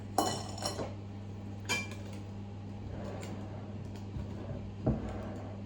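Cake batter of flour, sugar and yeast for an apple cinnamon cake being mixed in a bowl, heard as a few sharp utensil clinks and scrapes against the dish over a steady low hum, with no one talking.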